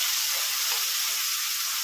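Onion paste dropped into hot oil, a loud, dense, continuous sizzle hissing close up without pause.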